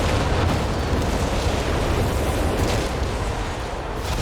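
Naval bombardment from Company of Heroes 3 rumbles as a dense, continuous roar of overlapping explosions, loud and close, with no break and no talking.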